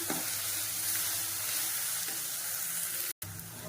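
About fifty grams of ginger garlic paste sautés in a pan for a potato biryani, giving a steady, close sizzle and hiss throughout with a brief gap near the end and no talking.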